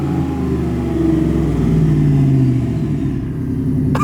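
A race truck engine idles and runs close by, a loud steady rumble with slight revving swells throughout.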